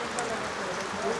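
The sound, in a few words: rain falling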